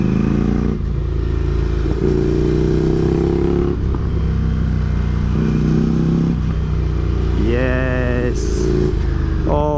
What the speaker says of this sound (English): Oh, I love this about motorcycling, just riding the corners, enjoying yourself.